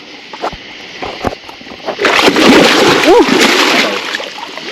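A large river fish is let go from the bank and hits the water with a near, heavy splash and sloshing churn after a few light taps, while someone talks.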